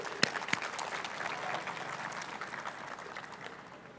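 Faint, distant audience applause in a lecture hall welcoming a guest lecturer, a soft steady patter with a couple of sharper claps near the start, fading toward the end.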